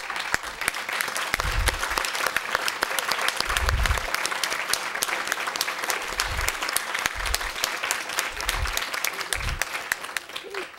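Sustained applause from an audience at a student life achievement awards ceremony, honoring parents and family members who stand, a dense continuous clapping with low thumps recurring underneath throughout.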